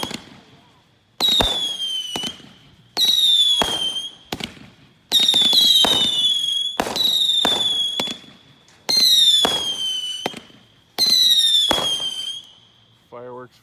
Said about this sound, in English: Fireworks Fiesta's up.